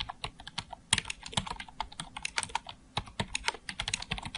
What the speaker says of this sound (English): I'm going to click once and just start typing.